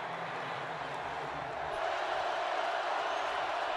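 A dense roar of crowd noise fills the stadium at a 2018 Oregon at Washington State college football game, holding steady and swelling slightly louder halfway through.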